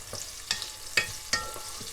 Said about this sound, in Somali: waxa ka haystaa wax yar oo saliida waaye basalaha soo jarjartaan ku darsanaya